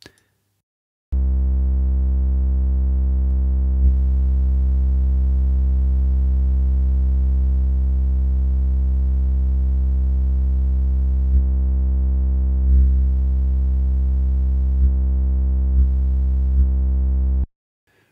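A steady, buzzy Minimoog-style synthesizer tone built in Bitwig's Grid, held as a single sustained note for about sixteen seconds with a faint click or two, then cut off cleanly.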